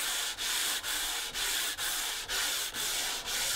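A wooden instrument neck is sanded by hand with long, even rubbing strokes, a steady rhythmic scrape that pauses briefly about every half second, close and alone without talk.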